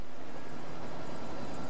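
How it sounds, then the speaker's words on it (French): The steady roar of a helicopter in LEGO City Undercover holds a constant level through the whole short stretch, with no voices. "Tu sais piloter un hélico?"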